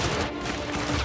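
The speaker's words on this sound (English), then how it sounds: "I got gunfire." Dense, continuous burst of gunfire in a PlayStation VR shooter game, loud and sustained like a fusillade filling the whole moment, with no talking over it.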